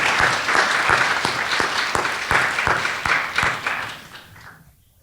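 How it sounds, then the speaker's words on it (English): Audience applause for a performance coach at Poetry Out Loud 2025, with distinct nearby claps over a crowd wash that gradually tapers and fades out near the end. "Please give a round of applause for Jeremy Phillips"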